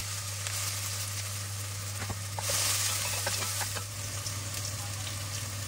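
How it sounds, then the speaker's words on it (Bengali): Chopped onion frying in hot oil with cinnamon and bay leaf, a steady close sizzle with a brief louder crackling surge midway and faint stirring scrapes throughout. "এখন যে চপ করে একটা অনিয়ন রাখছিলাম ও অনিয়ন দিলাইছি গরম হওয়ার"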